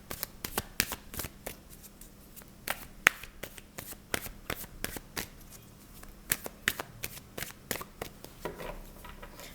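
Tarot cards are shuffled close up in a quick series of crisp, papery riffles and snaps, each one repeating in a fairly regular rhythm, quiet with no talk.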